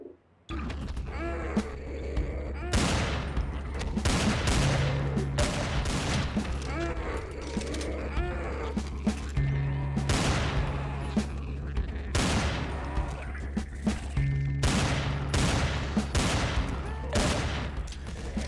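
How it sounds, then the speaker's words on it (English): Desert Eagle pistol fire in a shooter video game, loud sharp shots in irregular bursts throughout with mechanical clanks and game effects between them. "I'm gonna run out of bullets for my deagle."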